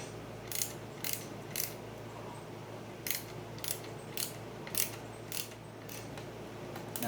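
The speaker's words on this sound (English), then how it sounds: "these are metal screws screwing into plastic" Metal screws being driven into plastic parts on an RC buggy, a series of short, faint clicking and ratcheting ticks in irregular bursts over quiet background.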